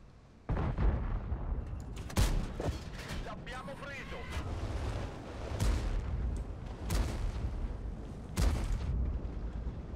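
Loud booming tank cannon shots in World of Tanks fire several times over a continuous rumble of battle noise, with a voice talking in German over it.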